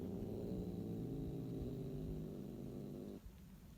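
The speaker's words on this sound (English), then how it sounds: "These are just the hobo cats that come up on my porch." Feral cats on a porch give a steady low purring rumble up close for most of the moment, then it cuts off and leaves quiet.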